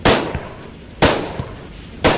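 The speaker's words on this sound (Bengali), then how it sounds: "সামনে বাজারের ভিতর থেকে তিনটে গুলির শব্দ" Three loud, sharp gunshots ring out from inside a market during rain, spaced about a second apart, each a sudden crack that trails off into steady background noise.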